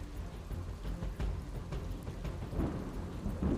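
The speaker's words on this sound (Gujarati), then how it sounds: "કેટલાક જિલ્લાઓમાં ધોધમાર વરસાદ પડ્યો છે" Heavy monsoon rain with thunder over a Gujarat district, a low rumbling roll under a constant wash of rainfall, moderately quiet and without voices.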